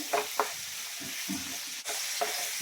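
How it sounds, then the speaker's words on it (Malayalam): Sliced onions sizzle and crackle in melted butter in a pan for butter chicken, with a spatula scraping and stirring in short, irregular strokes over a constant frying hiss. "സവോള വഴന്ന് വരുന്നുണ്ട്"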